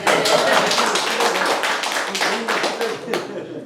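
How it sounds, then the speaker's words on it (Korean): A lecture audience claps together in a dense burst of applause that carries on steadily for several seconds. "기다렸으면 박수 한번 치고"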